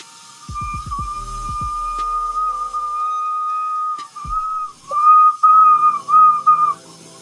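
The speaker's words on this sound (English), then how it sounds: "Yeah, we definitely got a whistle there." Hot glass being picked thin during glassblowing gives off a sustained, steady high whistle that wavers slightly and then breaks into several short pulses near the end, with a few faint clicks early on.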